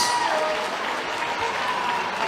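Crowd applause rings out for two boxers at a live boxing event in Sheffield, a dense, steady wash of clapping and cheering that holds at even strength throughout.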